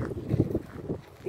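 Wind gusting along a river embankment on Krestovsky Island in St. Petersburg, a steady low rushing buffet against the microphone with no talking.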